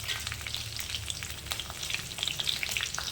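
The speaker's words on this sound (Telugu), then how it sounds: "ఇది కాస్తంత చుట్టుపక్కల ఆడేలాగా మనం వేయించుకోవాలి. ఇలా వేగుతూ ఉంటుంది." Crushed garlic, slit green chilies and a dried red chili frying in hot oil, giving a close, continuous crackling sizzle with bright popping spatters throughout and no voices.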